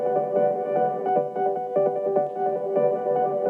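A beat run through the Fruity reverb plugin, toggled on and off: a steady looping melodic pattern with regular percussive hits, moderately loud and continuous, with no voices.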